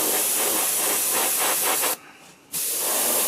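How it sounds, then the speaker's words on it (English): Steady broadband hiss of an airbrush spraying, close and continuous, cutting out briefly for about half a second before resuming. "It will spray most of my paints without having to thin anything."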